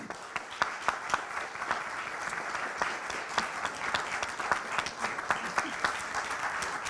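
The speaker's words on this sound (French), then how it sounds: "Merci d'applaudir Christophe Croc." An audience at a French conference applauds steadily, a dense crowd of clapping hands at moderate distance with no break.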